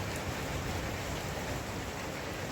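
Steady rain pours down, a continuous even hiss of drops with no pauses or voices.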